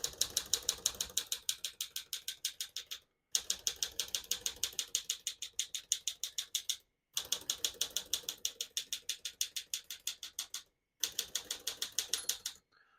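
Typing on a 1952 Smith-Corona Silent portable typewriter: bursts of rapid, crisp key strikes in a steady clattering rhythm, close and loud, separated by three brief pauses, with no talk.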